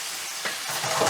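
Beef stroganoff meat sizzles and bubbles hard in a hot pan, a close, continuous frying hiss that swells slightly as it is stirred.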